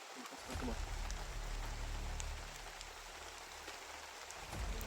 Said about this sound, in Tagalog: Lakas nga yung ulan mo tol.